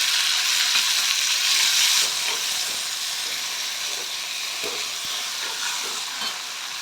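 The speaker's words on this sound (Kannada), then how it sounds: "ಇದಕ್ಕೆ ನಾನು 1-2 ಟೊಮೊಟೊನ ಕಟ್ ಮಾಡಿ ಇಟ್ಕೊಂಡಿದ್ದೀನಿ, ಮೀಡಿಯಮ್ ಸೈಜು. ಅದನ್ನು ಸೇರಿಸ್ಕೊತೀನಿ." Chopped medium-size tomatoes and browned onions frying for hotel-style sambar, a steady loud sizzle and hiss filling the whole stretch with faint stirring scrapes underneath, no voices.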